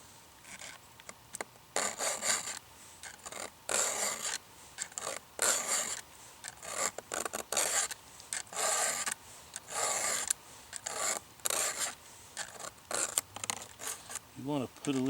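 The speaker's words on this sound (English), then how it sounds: "You want to put a little upward pressure on your file when you come in here." A hand file sharpens a chainsaw chain in repeated rasping strokes, each a close scraping burst separated by short pauses in a steady rhythm, with a voice heard faintly in places.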